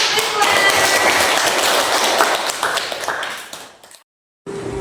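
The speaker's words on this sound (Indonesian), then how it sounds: "Oke, tepuk tangan." Students in a class clapping, a sustained run of dense applause that fades out toward the end, cuts briefly to silence, then resumes.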